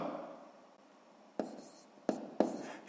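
Pen writing numbers on paper during a sixth-grade maths exercise: a soft scratching stroke followed by three sharper taps or strokes, close and quiet, with no talking.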